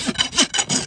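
A farrier's rasp files a horse's hoof in four loud, close, rhythmic scraping strokes, each a coarse rasping pass, with no talk.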